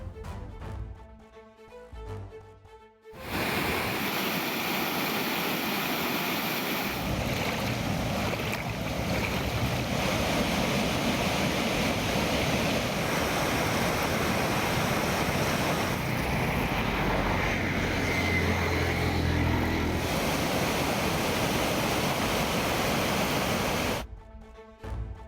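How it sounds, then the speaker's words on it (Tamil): A river swollen by continuing rain rushes and overflows its banks, a steady broadband roar of water that stays loud and unbroken for over twenty seconds, with wind buffeting the microphone and no voices. "மலையோர பகுதிகளில் தொடரும் மழை காரணமாக ஆறுகளில் தண்ணீர் கரை புரண்டு ஓடுகிறது"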